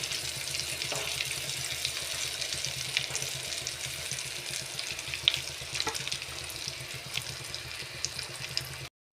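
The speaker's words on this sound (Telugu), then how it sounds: "మంట సిమ్లో పెట్టుకొని ఇట్లా చిన్నగా ఒక్కొక్కటి అటు ఇటు తిప్పుకుంటూ వేపుకోవాలండి." Stuffed thorny brinjals, a masala fry, sizzle steadily in a pan over a low flame, a constant crackling hiss that runs the whole time with faint stirring and clinks now and then.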